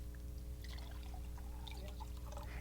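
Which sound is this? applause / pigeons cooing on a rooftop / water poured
water poured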